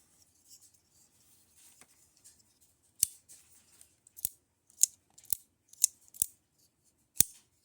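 Jin Rhino Jr. folding knife blade swung open and shut on its pivot, a series of about eight sharp, close metallic clicks spaced unevenly over near silence.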